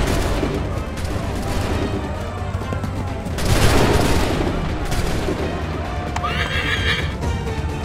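Battlefield din from Assassin's Creed 3 with musket volley fire amid horses whinnying and hooves clattering, a dense, loud crackling mass with a swelling burst midway and no clear speech.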